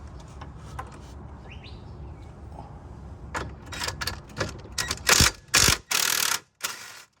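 A wrench loosens a ball joint nut on a car, with clicking ratchet and metallic mechanical sounds that grow louder into several bursts of cranking close by.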